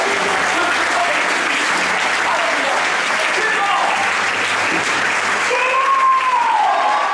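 Congregation applauding at an evening church worship service, a sustained wash of clapping that stays level and fairly loud, with a voice and a faint sustained musical tone running underneath.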